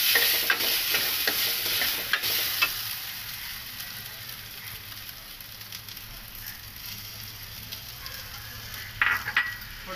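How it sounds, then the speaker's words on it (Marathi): Rice grains stirred and roasted in ghee in a pan for rice kheer, a steady dry scraping and soft sizzle running throughout, near and continuous with a few sharper clinks, no voices. "याच पॅनमध्ये आपण हे तांदूळ आहेत ना ते परतूया."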